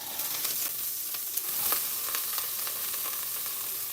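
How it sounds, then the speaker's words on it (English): Shredded carrot hits a hot pot for high-protein teriyaki pad thai with salmon, giving a steady, close hiss of frying with a few faint scrapes and stirring taps. "we have our shredded carrot here. We're gonna add that to the pot."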